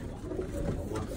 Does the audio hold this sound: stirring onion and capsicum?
no